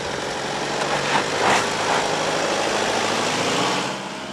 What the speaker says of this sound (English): gently increase the engine speed, and up we come